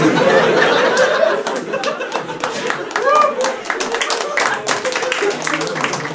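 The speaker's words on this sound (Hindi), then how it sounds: "ताली क्यों बजा रहे हो?" Scattered claps and light laughter come from an audience at a stand-up comedy show. The claps are sparse and uneven, with a murmur of chuckles in a reverberant room.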